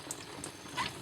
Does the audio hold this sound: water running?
yes